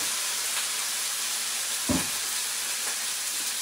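Potatoes, softened first in a microwave with a little water, frying in a kitchen pan, giving a steady close sizzle and hiss with a brief louder burst of spitting near the middle.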